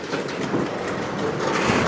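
A CN freight train rolls through Sarnia, Ontario at night, a loud, close rumble of wagons with rhythmic clickety-clack from the wheels over the rails.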